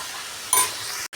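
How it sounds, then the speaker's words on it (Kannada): Tomatoes frying in a pan for a ladies finger (okra) fry, bendekayi palya: a steady close hiss of sizzling with a brief metallic clink partway through, no voices. "ಟೊಮೊಟೊ ಚೆನ್ನಾಗಿ ಸಾಫ್ಟ್ ಆಗೋವರೆಗೂ ಫ್ರೈ ಮಾಡ್ಕೊಳ್ಳೋಣ"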